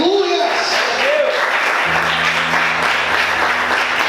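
A church congregation applauds, steady wash of clapping under a sung or spoken voice at the start, with low sustained instrumental tones joining partway through.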